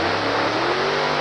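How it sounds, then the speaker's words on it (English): A steady, loud alcohol-fuelled drag-racing funny car engine drone with a low rumbling hum, held constant for a brief moment without revving up or down, at the 1985 ADRA Funny Car World Finals. "you'll notice West's car sounds different from the other nitros during the burn."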